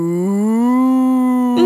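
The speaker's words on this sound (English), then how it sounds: "Moo. No, Bartolito, that's a cow." A cow on a quiet little farm gives a single long, steady moo that rises slightly in pitch, heard up close and alone, ending in a brief soft rustle.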